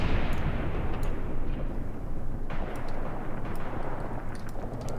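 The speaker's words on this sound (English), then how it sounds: "Let's call in more artillery, but this time let's call it in on the hospital here and the tree line." Artillery barrage in Graviteam Tactics, a continuous heavy rumble of distant shelling with scattered sharp cracks throughout, no voices.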